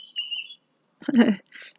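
Small birds chirp outdoors on a warm evening: a short thin call, then a brief burst of brighter twittering and a final quick chirp, all close and clear, with near silence between.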